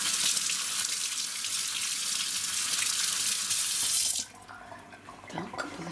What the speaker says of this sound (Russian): Сейчас руки помою.